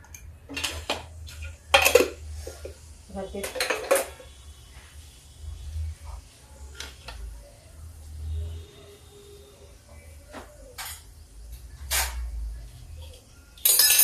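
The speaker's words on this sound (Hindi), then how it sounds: "देखिए जीरा तड़क रहा है" Sharp crackles and pops from cumin seeds in hot oil, with scattered clinks of utensils against a pan over a low kitchen hum.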